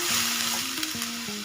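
Mustard seeds for tempering sizzle in very hot oil for a peanut curry, making a close, steady hiss with a low electrical hum underneath.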